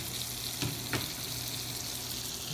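Cod fillets fry steadily in a pan over medium heat, a continuous soft sizzle with two brief louder pops or taps partway through, no voices.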